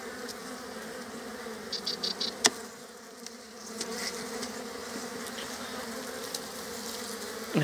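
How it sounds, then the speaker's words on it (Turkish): Honeybees buzz at a hive entrance, a steady swarm drone with a few closer bees flying past, fairly faint throughout. "Polen getiren arılar içeriye girebilsin."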